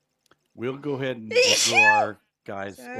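A single sharp sneeze bursts out in the middle of casual talk during a Minecraft-style gaming session, with voices speaking before and after it.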